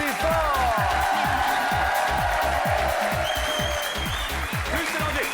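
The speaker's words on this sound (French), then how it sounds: "qu'on applaudisse fort" Studio audience applauding loudly on a French television game show, dense steady clapping throughout, with a strong rhythmic music beat thumping underneath and a bright whistling tone sliding in near the end.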